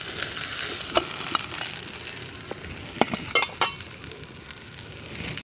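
A large rohu fish head frying in oil: a steady sizzle runs throughout, broken by several sharp clinks and scrapes of a utensil against the pan.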